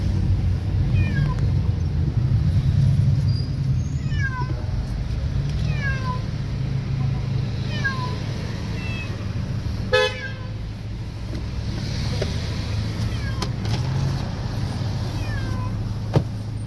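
Cats meow repeatedly, several short plaintive cries spread over time, over a steady low engine hum inside a moving vehicle.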